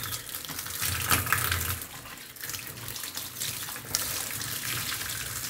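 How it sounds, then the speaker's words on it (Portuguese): Water gushing steadily onto a flood-damaged computer motherboard during rinsing, a close, continuous spray whose force wavers slightly as the stream shifts, with no talking. "Pode jogar água sem medo. Deixa a água bater bem mesmo, tirar toda a sujeira."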